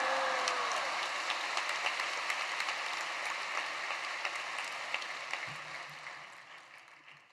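A large congregation at Yoido Full Gospel Church applauds as the pastor comes forward. The clapping is a broad, steady wash that carries on and slowly fades toward the end, with a faint voice briefly at the start.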